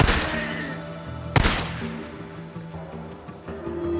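Gunfire in the video game Days Gone: two sharp loud shots about a second and a half apart, each followed by a ringing tail over a low droning game ambience.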